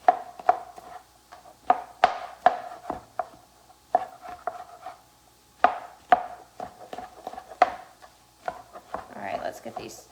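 A knife dices mushrooms on a cutting board in a home kitchen, sharp wooden chops landing in quick irregular bursts with short pauses between them, close and crisp against a quiet room.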